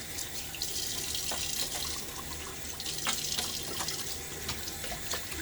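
Tap water runs steadily into a sink for a quick half rinse during a wet shave with a Timeless stainless steel .68 open-comb safety razor, a continuous close splashing hiss with a few drips.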